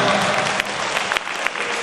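Crowd applause at a strongman competition in Łódź, Poland, a steady dense wash of clapping lasting the whole moment, close and loud with a few sharper claps standing out.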